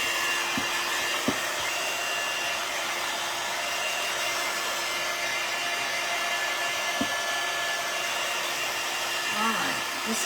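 A hair dryer blows steadily and loudly over a wooden bee craft kit, a constant whooshing roar with a few faint clicks underneath and no talking.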